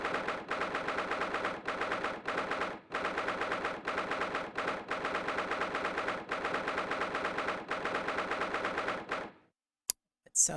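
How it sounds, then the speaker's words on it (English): Rapid bursts of automatic gunfire in Ace Attorney Chronicles, loud and sustained with brief pauses, then silence with a couple of sharp clicks at the end. "It sounded less than a typewriter and more like gunshots."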